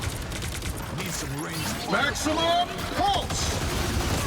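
Punisher's gunfire in the video game Marvel Rivals cracks out in quick bursts and scattered shots, moderately loud, mixed with chirpy game effects while a player talks over the action.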